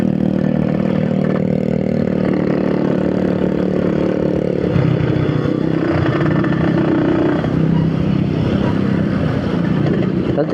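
A Yamaha YT 115cc motorcycle being ridden on a road, its mid-pitched engine droning steadily and close throughout with slight shifts in revs, and no talk over it.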